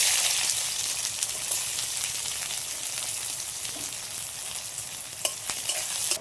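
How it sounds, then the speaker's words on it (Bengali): Chopped onions frying in hot oil for khichuri, a busy, continuous sizzle with spatula scrapes and stirring clicks scattered through it, fairly close and alone without any voices. "এবার দিয়ে দেবো পেঁয়াজ কুচি তেলের মধ্যে।"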